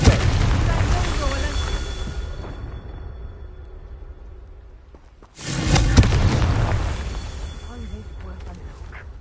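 A Confringo fire-blast spell explodes in the Hogwarts Legacy video game, a loud booming burst midway that cuts through steady game ambience, with a voice present.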